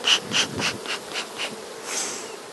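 Honeybees buzz around an opened beehive during a varroa mite check of a brood frame: close, steady insect droning in short repeated swells, with no voices.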